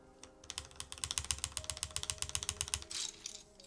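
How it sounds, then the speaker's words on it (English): Rapid typing on a Lofree Hyzen mechanical keyboard with its stock keycaps, a dense run of crisp close clicks and clacks with a faint hum beneath, pausing briefly near the end. "I kind of just want to hear what these keycaps sound like"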